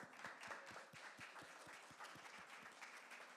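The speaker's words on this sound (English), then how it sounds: "please give one round of applause" An audience at a programmable cryptography panel claps in a steady round of applause, fairly distant and quiet, with no voices over it.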